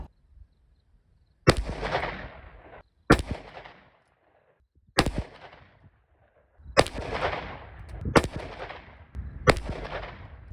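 Federal 38 Special +P+ HydraShok rounds fired from a revolver with a 4-inch barrel, six loud, sharp gunshots spaced a second or two apart, each followed by a short outdoor echo.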